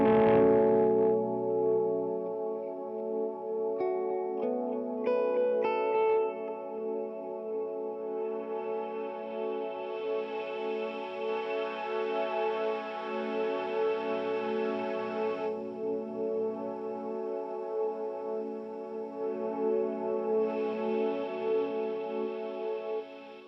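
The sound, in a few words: electric guitar through EQ pedal at end of pedal chain with delay and reverb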